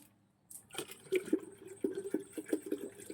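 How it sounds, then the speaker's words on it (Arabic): Water is poured from a bottle into an electric kettle in a hotel room, a soft gurgling stream with uneven glugs, fairly close and quiet. "يلا بقى نفتح البويلر، نحط الميه."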